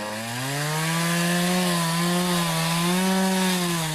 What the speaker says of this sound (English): We'll run the chainsaw